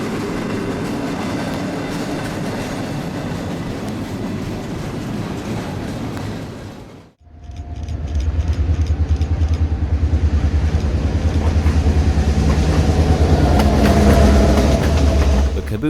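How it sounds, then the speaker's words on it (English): A train on the CP railway in Plattsburgh shoves a former caboose platform past, a loud, close rumble of wheels and rail clatter that briefly drops out, then returns heavier and continuous. "I filmed a former caboose shoving platform on the CP here in Plattsburgh"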